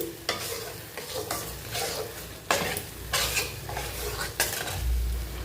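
Coconut paste fries with spices in a pan, giving a continuous sizzle broken by repeated scraping strokes of a utensil against the pan, roughly one every second, close and with no voices.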